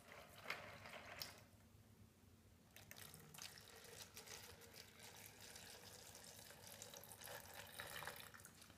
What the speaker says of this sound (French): Ensuite, nous allons arroser nos billes d'argile.